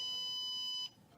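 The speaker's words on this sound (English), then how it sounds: "it will send a high signal for the buzzer to produce the tone" A classroom smoke sensor alarm's buzzer sounds a single steady, high-pitched electronic tone for under a second, then cuts off, leaving quiet room noise.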